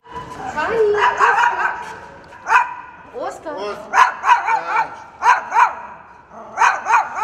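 A dog barks in a metro station used as a shelter during wartime, giving several sharp, close barks and yips in uneven bursts while people talk nearby.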